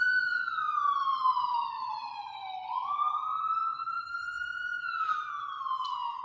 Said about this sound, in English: There's a lot going on behind that siren.